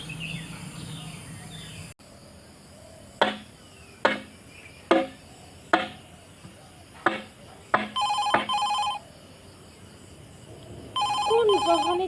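In a quiet room, a few sharp taps come first, followed by a mobile phone playing a bright, repeating electronic ringtone for an incoming call, in two separate bursts near the end.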